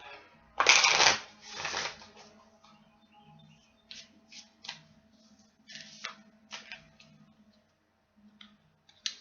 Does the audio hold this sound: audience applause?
no